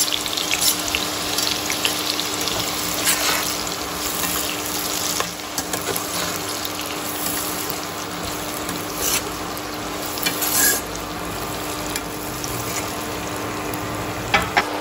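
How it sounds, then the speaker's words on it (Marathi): Finely chopped onions fry in hot oil for a goat blood fry, a loud, dense, unbroken sizzle with a steady hum beneath and occasional stirring knocks. "तर इथे आता आपल्याला हा कांदा थोडासा मऊ पडेपर्यंत भाजून घ्यायचा आहे"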